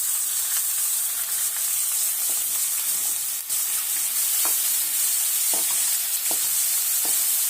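Tomatoes and vegetables sautéing in a pan for a potato curry, a steady close sizzle with occasional scraping stirs of a spoon against the pan.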